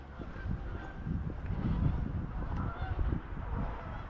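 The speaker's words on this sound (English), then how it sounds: "those geese are raising a hell of a storm out there" Geese honk outdoors in a steady, busy chorus, a noisy flock at some distance, with wind and ambient rumble underneath and no clear voice.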